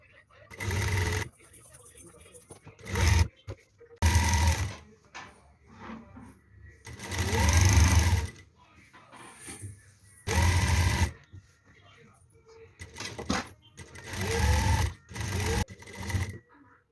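A home sewing machine stitches a dress in several loud, close bursts of whirring, with quieter pauses between runs and someone talking throughout.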